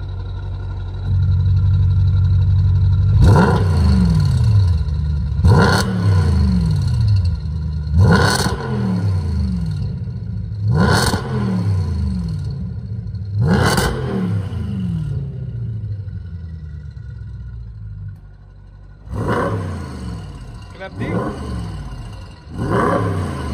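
An Audi RS5 with a Milltek resonated exhaust revs hard about eight times, each loud, close blip roaring up and falling back to a rumbling idle, with a short pause before the last few quicker revs.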